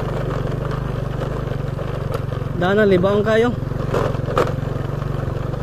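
A motorcycle engine strains while riding uphill on a rough rural road, a steady mid-pitched drone running underneath conversation throughout.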